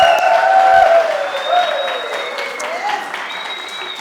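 An audience at a storytelling contest applauds over several seconds, a steady wash of clapping and cheering mixed with whistles and shouts that gradually fades.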